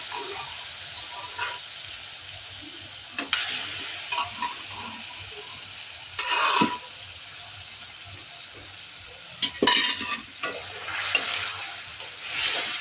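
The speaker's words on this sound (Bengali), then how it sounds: "এরপর ভালো করে জিনিসগুলো মিশিয়ে নিচ্ছি আর মিডিয়াম আঁচে ভালো করে কষিয়ে নিচ্ছি যতক্ষণ না অবধি তেল ছেড়ে দেয়।" Winter vegetables with turmeric are stirred and fried in oil over medium heat for shukto, a soft steady sizzle punctuated by scraping stirs of a spatula against the pan.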